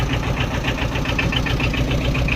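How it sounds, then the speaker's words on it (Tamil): A 2019 Tata Ace Gold engine runs steadily at idle, giving a close, even, throbbing drone with a faint rapid knock. It continues without interruption and no one speaks over it. "இன்ஜினோட ஓடுது சவுண்டோட பாருங்கள்"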